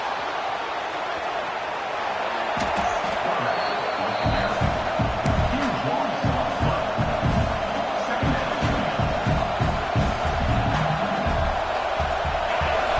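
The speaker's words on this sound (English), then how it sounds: "The roar of the crowd trying to fuel this defense to keep them pinned in their own end" A loud, sustained roar from a college football stadium crowd at an Alabama at LSU game, steady and dense throughout with rhythmic swells of noise.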